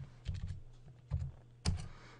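Fastboot commands typed on a computer keyboard for an HTC One phone, heard as three short bursts of quick key clicks close to the mic, each lasting a fraction of a second with quiet pauses between them.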